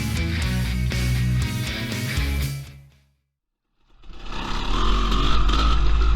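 A rebuilt Honda CR500 500cc big-bore two-stroke motorcycle with an AF conversion roars loudly up a hill on a test ride, the engine noise coming in after a brief silence and holding steady to the end.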